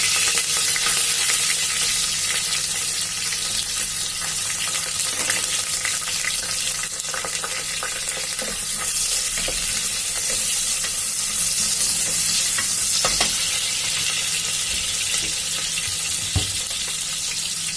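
Mutton and drumstick curry frying in a pan while being stirred: a steady, close sizzle with intermittent scraping and stirring strokes running throughout, fairly loud, with nobody talking.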